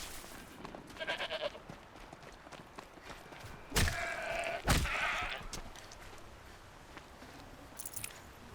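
A goat in the video game Horizon Zero Dawn bleats a couple of short, sharp times amid quiet game ambience and faint soft sounds.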